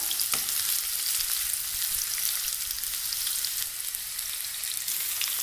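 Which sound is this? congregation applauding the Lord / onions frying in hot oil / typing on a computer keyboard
onions frying in hot oil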